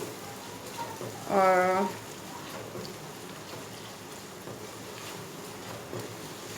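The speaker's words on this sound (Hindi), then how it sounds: "चूल्हे की आंच को मैंने बिल्कुल तेज़ रखा हुआ है, ताकि प्याज सही से मैं फ्राई कर सकूँ।" Onions fry in a pan over high heat with a faint, steady sizzling hiss, and a voice says a single short word early on.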